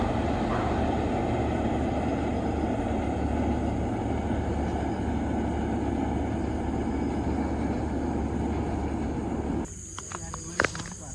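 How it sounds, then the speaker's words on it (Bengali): A train passes on a moonlit night, a loud steady rumble and rattle of rail cars with a high hiss that cuts off abruptly near the end, leaving quieter night ambience. "ট্রেন যখন যায় এক কথায় এই রকম দৃশ্য দেখতে খুব ভালো লাগে বিশেষ করে ট্রেনের যখন সাউন্ড হয় এবং হর্নগুলো দেয়"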